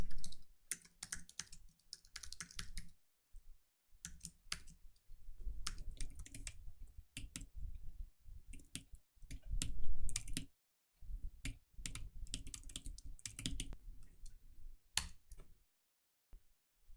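Typing on a computer keyboard, with bursts of fast, close, crisp key clicks separated by short pauses and no talking.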